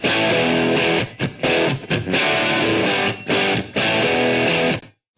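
A plate reverb with a 200 ms pre-delay washes over a dense, distorted music track that plays loudly in bursts with short gaps, then cuts off and fades near the end.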